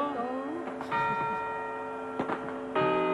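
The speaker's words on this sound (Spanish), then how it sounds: "vamos a escuchar para que recordemos ese momento de las campanadas" New Year's Eve clock chimes from a Telecinco broadcast: resonant bell strikes ring out one after another, each leaving a long humming tail, with a fresh strike near the end.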